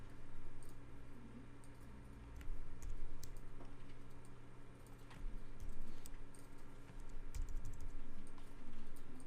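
Arrow keys and shift are pressed on a computer keyboard while moving objects in Adobe Illustrator, producing a close, steady run of crisp key clicks and taps in irregular bursts, with no talking.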